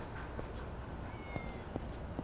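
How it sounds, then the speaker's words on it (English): A cat meowing in Yakuza 6, a few faint, short mews spaced apart over a quiet low background hum. "Wait, hold on, I just heard a cat."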